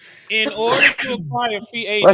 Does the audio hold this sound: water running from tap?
no